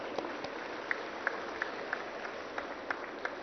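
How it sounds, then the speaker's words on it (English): An audience at the IGBC Green Property Show inauguration at Hitex, Hyderabad, claps in a thin, faint, steady patter of scattered individual claps, heard from a distance. "we need to have a serious clap for all this activity."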